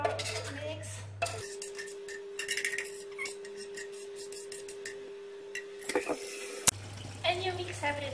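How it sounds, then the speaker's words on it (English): Utensil scraping and clinking in a bowl while melted chocolate is stirred into chocolate fondant batter, a near, steady rasp with light taps running throughout, plus a low hum at the start and end and faint talk in places. "And you mix everything together."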